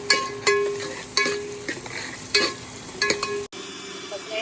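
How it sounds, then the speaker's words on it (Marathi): Chopped onion frying in a pan for misal pav, a close sizzle broken by several sharp spatula scrapes and clanks, with a brief cut near the end. "आता आपला कांदा भरत आलाय"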